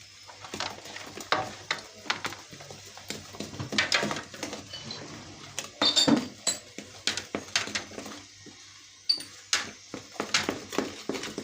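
A spoon stirring cake batter with baking powder and vanilla in a bowl for a walnut cake, with irregular clinks and taps against the bowl, close and moderately loud, some quieter stretches between.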